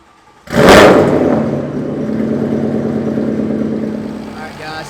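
A Paxton-supercharged, 832 whp 2014 Mustang 5.0 with forged internals and a TR6060 swap fires up with a sudden roar, then settles into a steady, loud idle with a constant supercharger whine, heard up close.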